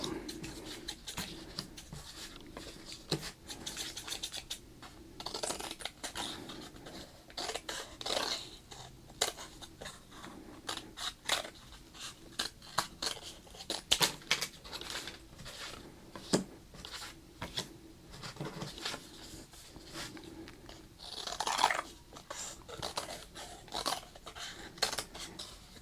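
Scissors cut repeatedly through sports cards, giving close, crisp crunching snips in an irregular run of dozens of short cuts with small pauses between them.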